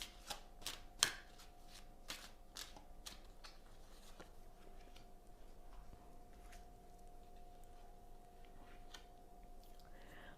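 Tarot cards are shuffled and drawn with a few soft, close flicks and taps at the start, then the sound gives way to a faint, steady background hum.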